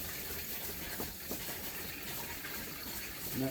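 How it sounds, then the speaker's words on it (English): Water runs into a household water filter as the filter is being changed, a faint, steady gushing fill with slight rising texture toward the end, heard on its own. "now you got water going into the filter"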